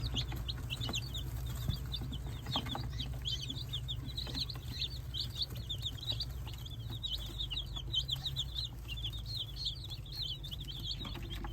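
Newly arrived chicks peep in a steady, dense chorus inside their brooder home, with occasional soft clucks over a constant low hum of equipment; no talking.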